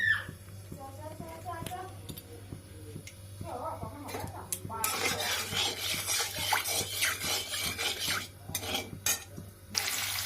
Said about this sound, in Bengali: তেলটা হালকা চলে এলে আমি পনিরগুলোকে ছেড়ে দেব